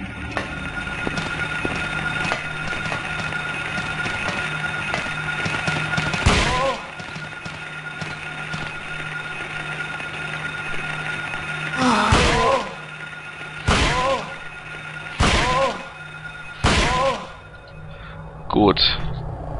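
Several loud, sharp gunshot bangs from the video game Silent Hill over a steady hum, arriving singly and in a quick cluster near the end.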